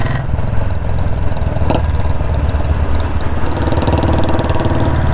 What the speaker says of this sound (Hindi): बैक फायरिंग आ रही है, यानी कि इसका पूरा एग्जॉस्ट अच्छे से टाइट नहीं हुआ है